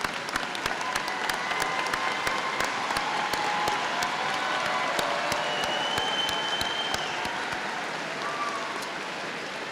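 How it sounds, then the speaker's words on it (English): Hearty applause from a large graduation ceremony audience, dense sustained clapping filling the hall steadily from start to finish with no voices over it. "receive a hearty round of applause from all of us for your ongoing support and patience"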